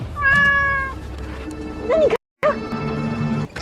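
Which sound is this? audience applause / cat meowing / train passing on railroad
cat meowing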